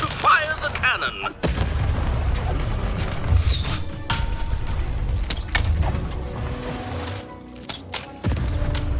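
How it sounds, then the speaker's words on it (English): A cannon fires during a battle against the Baroness in the video game Lost in Random, with deep booms and mechanical clanks sounding over a dense, continuous background of game sounds. "Shoot the button to fire the cannon."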